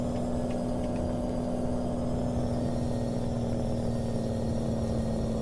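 A truck engine in American Truck Simulator drones steadily and somewhat high-pitched, with a constant whine over a low rumble and no voices.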